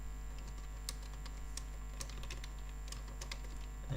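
Code is being typed in PHP on a computer keyboard, with steady fast keystrokes and scattered louder clicks, heard alone at close range over a low hum.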